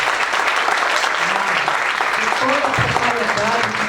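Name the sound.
audience applause for the team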